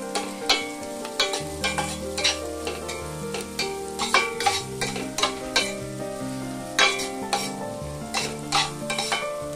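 Onion pieces fry with salt and turmeric in a pan. A steady sizzle runs under repeated stirring scrapes and knocks of a spoon, close and fairly loud.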